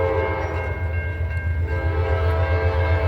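Eastbound Norfolk Southern manifest freight train rolling through Suffolk, Virginia, a steady, loud rumble of engines and cars with a sustained horn-like tone on top, continuous throughout.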